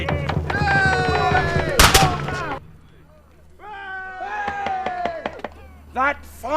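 A single sharp gunshot rings out in the middle of a Civil War re-enactment execution at the Crabchurch Conspiracy commemoration in Weymouth. Loud voices shout before and after the crack, and outdoor crowd noise follows.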